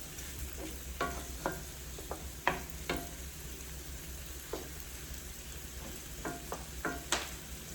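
Halibut frying in a pan with butter and garlic, a soft steady sizzle with scattered spits and pops, quiet and close, with no talking.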